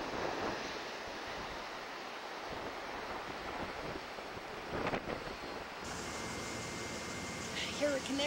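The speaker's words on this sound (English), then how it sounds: "It is a cold wind. Out of the north, along the coast, partially inland." Cold onshore wind from the north buffets the microphone on a coastal shore, a continuous broadband rush with surf-like swells and a couple of stronger gusts, heard without talk.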